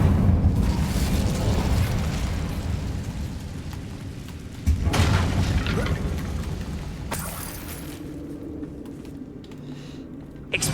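An Incendio fire spell in a Harry Potter video game goes off as rumbling explosive bursts, with a strong boom near the middle and a fading roar afterward.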